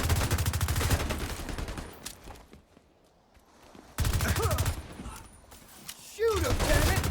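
Gunfire in The Division 2, loud rapid automatic bursts up close, cutting off into a quieter lull before heavy firing resumes, with game sound effects around it.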